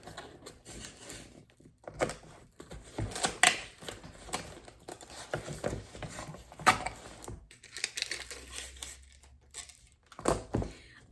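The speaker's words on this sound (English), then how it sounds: "I am very generous with my tape." Packing tape is pulled off the roll and torn while a package is sealed for shipping, heard as loud, close, irregular ripping screeches and crackles in uneven bursts, alone without talk.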